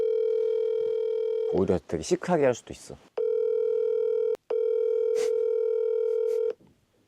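A phone call goes unanswered, with a steady ringback tone pulsing in long repeated bursts, loud and clean. A person talks briefly between the first and second rings.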